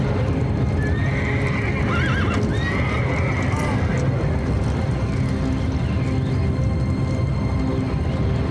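Horses in an animated adventure scene in ancient Egypt, galloping hooves and whinnying in a dense, loud rumble that runs throughout with voices mixed in.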